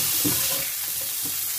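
Asparagus sizzles and fries in garlic butter over a moderate flame, a steady close crackle with light stirring scrapes and no talking.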